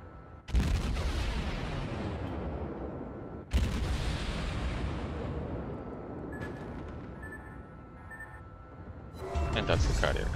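The Atago heavy cruiser's main guns fire in World of Warships ranked battles: two heavy booming salvos land a few seconds apart, each trailing a long rumbling decay, then faint interface chimes and a final cluster of blasts.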